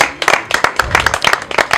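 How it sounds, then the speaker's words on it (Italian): A crowd claps in quick rhythmic bursts for the owner of the Bodeghero at a DJ party, the applause steady and lively throughout. "Facciamo un applauso al proprietario del Bodeghero"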